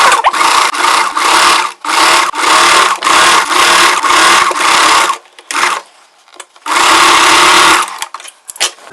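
Sewing machine running a straight seam on a cotton chudidar frill, loud and close in several short bursts separated by brief pauses, then one final burst after a near-silent gap.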